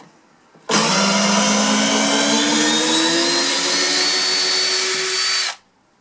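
Compact Makita CXT 12V DF333D cordless drill spinning in low gear, a steady close whine with a faint rising tone that starts abruptly, runs about five seconds at constant level, then cuts off.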